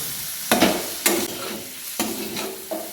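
Ridge gourd (tinda) pieces frying in a pan, with a continuous soft sizzle broken by four sharp scraping strokes of a spatula as the vegetable is stirred, close and clear with no voices.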